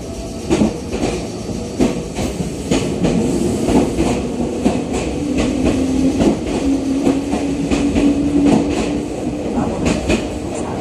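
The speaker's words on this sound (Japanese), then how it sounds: "4番線から電車が発車します。" A Meitetsu 9500 series electric train pulls away from track 4 at Iwakura Station, wheels clacking over rail joints in a speeding rhythm beneath a rising motor whine, heard up close.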